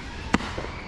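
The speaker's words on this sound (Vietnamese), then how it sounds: "Đốt mấy pháo lớn này thì họ đi ra ngoài." A single sharp firework bang goes off at a July 4 celebration, short and fairly loud against a steady outdoor background hum, followed by a faint softer pop.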